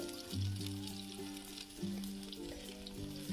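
Onion sizzles steadily in hot oil on a griddle, a soft crackling hiss close by, with faint steady tones humming underneath.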